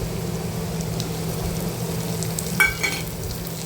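Onion and tomatoes sautéing in a pan, a steady close sizzle with a brief stir or scrape near the end.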